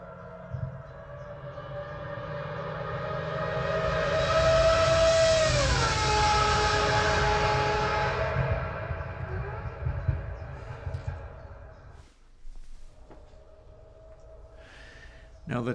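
A Mazda 787B race car racing past, a loud droning engine note that swells as it approaches, drops sharply in pitch as it goes by, then fades away over a steady low background.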